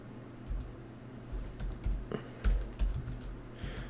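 Quick, irregular taps on a computer keyboard, close and clear, coming in short bursts with brief pauses and a few heavier key strikes.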